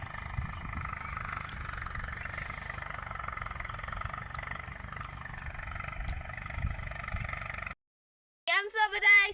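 A tractor engine runs at a farm orchard, a steady low mechanical drone heard at moderate distance for most of the stretch, then cutting out before a brief burst of other sound at the end.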